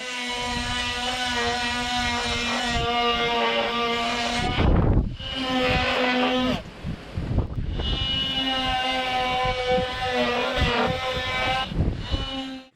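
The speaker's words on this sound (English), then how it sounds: "Does any power tool have a more annoying sound than a multi-tool?" Loud, buzzing whine of an oscillating multi-tool cutting during a Grady White boat transom rebuild, sustained with a steady pitch, broken by a couple of brief harsh pauses and restarts.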